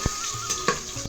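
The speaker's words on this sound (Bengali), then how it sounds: "ফোড়নটা একটু ভেজে নেব" Five-spice tempering with green chili frying in hot oil in a pan, a brief steady sizzle with a couple of sharp knocks or spatters, close and unaccompanied by speech.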